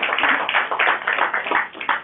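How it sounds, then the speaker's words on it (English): An audience clapping at a business talk for women entrepreneurs, a dense burst of applause from many hands, fairly loud and steady throughout, with no speech over it. "Can we have a clap for us?"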